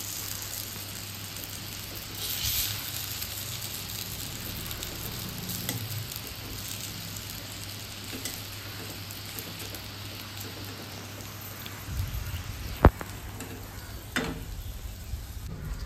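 Slices of pointed gourd (potol) frying in a pan, a soft steady sizzle throughout with a couple of faint utensil taps near the end.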